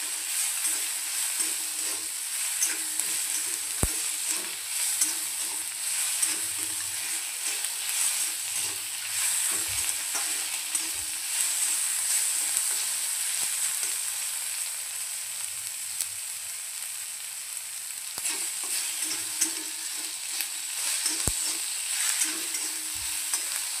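Sesame and poppy seeds dry-roasting in a pan, a steady soft crackling hiss broken by occasional scraping stirs and light knocks, with no voices.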